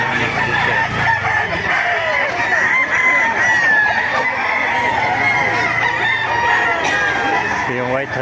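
Roosters crow and chickens cluck at a busy poultry market in Baliuag, several birds calling over one another continuously, close and loud.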